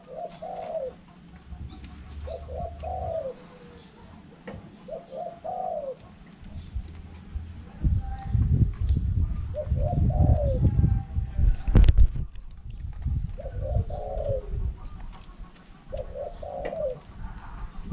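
Pigeons or doves kept in a bird pen coo in repeated short phrases every couple of seconds, fairly close, with low rumbling handling noise in the middle and a faint voice at times.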